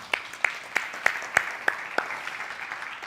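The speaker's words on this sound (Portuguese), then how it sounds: "Uma salva de palmas." A church congregation claps in a sparse, quiet round of applause, with a few distinct hand claps standing out at a steady rhythm over a soft background of scattered clapping.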